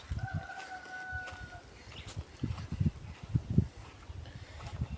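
A chicken clucks and calls repeatedly at close range among goats in a farmyard, with farmyard background noise and a short tonal squeal early on.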